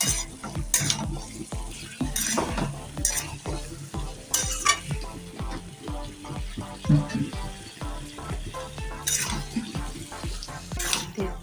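A vegetable curry with spices and lentil dumplings is stirred and fried in a pan, a soft sizzle under repeated rhythmic scraping and clinks of a spoon against metal, close and fairly quiet.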